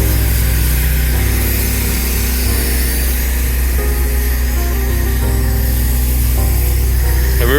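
A pressure washer surface cleaner running over a concrete driveway gives a loud, constant spraying hiss with a steady engine drone beneath, unbroken from start to finish.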